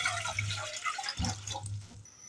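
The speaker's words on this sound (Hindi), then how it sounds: "इस पे एक पतीला रख दिया है और ये इसमें डाल रही हूँ 2 कप भर के पानी" Two cups of water poured into a cooking pot for a salted peanut recipe, giving a short gurgling, splashing pour with a brief pause midway that fades out near the end.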